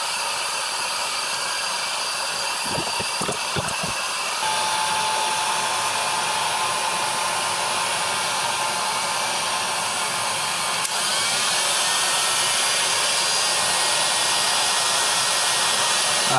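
A heat gun blows a steady, loud rush of hot air over a leather mask mold for a steampunk mask, with a few sharp taps early on, then an unbroken roar that grows slightly stronger.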